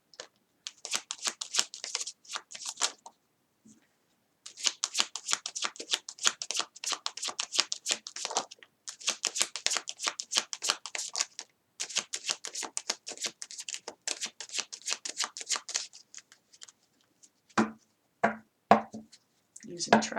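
Tarot cards are shuffled in repeated bursts of crisp riffling and flicking, with short pauses between runs, close and fairly quiet, followed by a few soft taps and handling sounds at the end.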